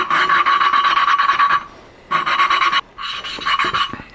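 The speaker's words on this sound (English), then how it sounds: "So we're gonna go through and grind again and try to bring those two surfaces so that they're mating perfectly." A valve is ground against its seat in an XR250 cylinder head with lubricant, giving a close, gritty back-and-forth rasp in three bursts separated by short pauses.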